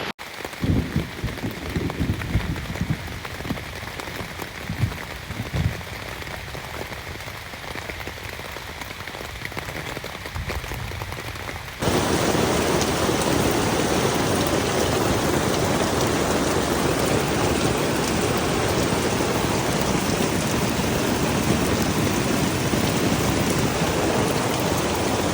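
Steady rain pours outside, a soft patter for the first dozen seconds that suddenly swells into a loud, dense, continuous downpour on the surface for the rest of the stretch.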